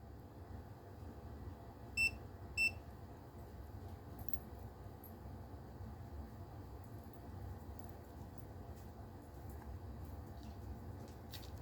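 Two short, sharp electronic beeps in quick succession near the start from a Presidium II gem tester calibrating, then a steady low hum for the rest.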